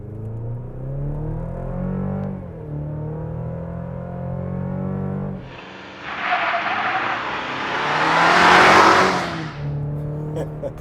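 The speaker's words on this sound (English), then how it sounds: "It's 2024 Chevrolet Colorado ZR2 without launch control," A 2024 Chevrolet Colorado ZR2 pickup with a turbo 2.7-liter four-cylinder accelerates hard in Baja mode without launch control, its engine note rising loudly into a broad rushing roar near the end before easing off.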